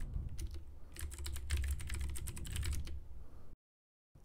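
Rapid clatter of typing on a computer keyboard as a terminal install command is entered, close and steady for about three seconds before stopping, with no voices.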